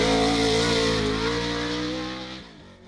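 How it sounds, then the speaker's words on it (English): A 900 horsepower Pro 2 off-road race truck engine revs loudly nearby, a strong harmonic roar that holds steady and then drops away as the throttle eases off near the end. "We're testing out this 900 horsepower Pro 2 off-road truck."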